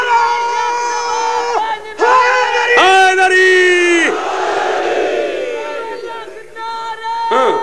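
Crowd at a Shia majlis shouting the Naara-e-Haidari slogan together, loud massed voices in several surging bursts of chanting close by.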